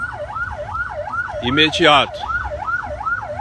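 An ambulance siren wails in a steady rising-and-falling cycle at an accident scene on a main avenue, loud and close throughout, with someone briefly speaking over it.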